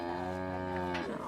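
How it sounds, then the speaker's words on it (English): A Longhorn steer at high school cattle pens gives one long, deep, droning moo that fills the moment, rich and steady before tapering off at the end. "A lot of other high schools have cattle, but none of them have Longhorns."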